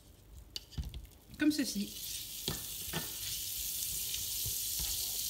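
Butter sizzles loudly as it drops into blond caramel in a frying pan for a pan-cooked apple cake, with a crackling burst that settles into a steady hiss. A voice speaks briefly over it.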